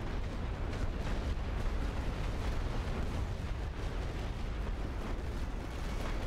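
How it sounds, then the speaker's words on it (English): Mortar firing and shells exploding on a World War I battlefield in The Great War: Western Front, a steady dense rumble of blasts and booms rolling on without pause, moderately loud with no talk. "Mortar's still up and firing"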